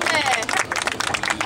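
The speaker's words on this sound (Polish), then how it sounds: "Wielkie brawa." Brief burst of crowd clapping at a public event presenting a container housing estate, quick scattered claps mixed with murmuring voices and a bit of talk, fairly close and of moderate loudness.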